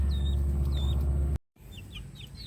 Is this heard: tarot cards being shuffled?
no